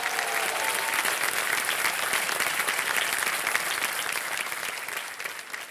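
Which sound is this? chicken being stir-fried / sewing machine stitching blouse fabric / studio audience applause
studio audience applause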